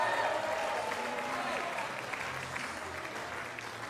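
A tennis crowd applauds steadily after a hard-fought upset match, a broad dense wash of clapping that fades slightly toward the end, with a commentator's voice faintly under it.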